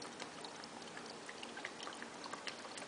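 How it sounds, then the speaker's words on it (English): Worcestershire sauce pours into a cooking dish in a thin, steady trickle with small splashy drips, quiet and close, running continuously for a few seconds. "Now we're going to want some more Worcestershire sauce in here"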